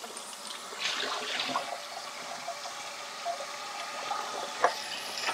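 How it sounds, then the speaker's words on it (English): Water splashes and trickles continuously at a fairly quiet level, with occasional sharper drips and sloshes, as a water filter bag is rinsed out. "Right now I'm just going to rinse this bag out."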